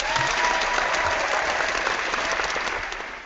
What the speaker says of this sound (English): Brother Austin, I forgot to give you applause.